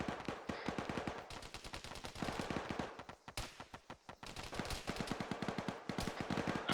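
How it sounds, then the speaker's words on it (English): Rapid gunfire rattles during an airborne division military training exercise, with long bursts of fast shots and brief pauses between them, moderately distant and sharp, with no voices. "keep rapid fire to the west"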